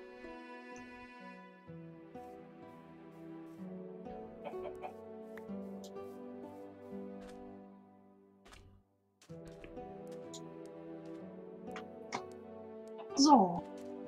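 Chickens clucking in the Minecraft video game, scattered through the clip under a person talking and steady tonal game sound, with a louder cluck near the end.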